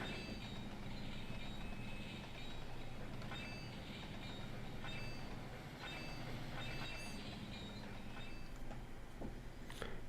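Trains rolling along the rails in the Trainz 22 simulator, a steady loud rumble of wheels with scattered clicks and brief metallic squeals over several seconds, no talking.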